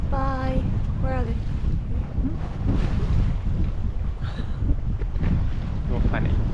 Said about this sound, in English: Isn't this such lovely sailing?